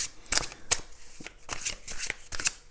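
Tarot cards handled and shuffled by hand, a series of quick, crisp riffling snaps and slides up close, with brief pauses between bursts.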